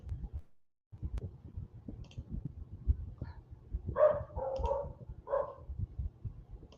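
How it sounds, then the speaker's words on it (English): A pet dog barks and whimpers in the background indoors, a few short yelps and whines at moderate distance over a low steady room hum, with no talking. "I'm sorry for my dog in the background"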